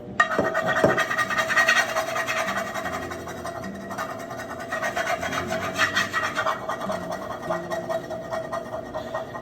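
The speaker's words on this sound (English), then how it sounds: "The little scraping tool for the black parts that burned." A small scraping tool rasps against a pan after cooking an egg, working at burnt black bits with a close, repetitive grinding scrape that runs throughout, a little louder early on.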